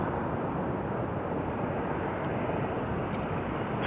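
An airplane at Toronto Pearson Airport roars as a steady, broad jet engine rumble, moderately distant and continuous, with no talk over it.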